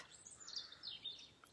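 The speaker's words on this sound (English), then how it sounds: "Listening to all the birds still." Faint birdsong drifts in from outdoors, a few high thin chirps and trills at a distance, brief and quiet.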